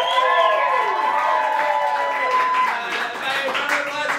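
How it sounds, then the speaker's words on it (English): An audience at a stage musical claps steadily with cheering and whooping voices mixed in, a dense, continuous crowd sound throughout. "By round of applause, who's never seen this show before?"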